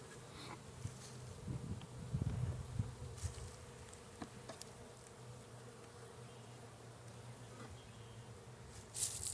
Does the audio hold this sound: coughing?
no